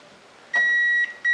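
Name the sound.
Epson Stylus Photo PX810 printer power-on beep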